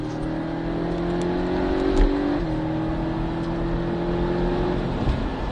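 Porsche 718 Cayman S at full throttle on the Trappes circuit during a driving course, a steady loud in-car engine drone with rising pitch and a brief dip near the middle as it keeps accelerating, no talk.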